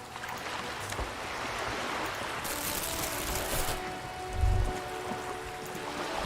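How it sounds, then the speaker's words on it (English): Rain patters steadily in the video game Disco Elysium, a soft continuous hiss with a brief louder burst midway and a low thump near the end, no voices. "It's raining."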